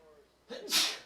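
A single short sneeze near a youth baseball game, a quick breathy intake followed by a sharp burst, fairly close and moderately loud.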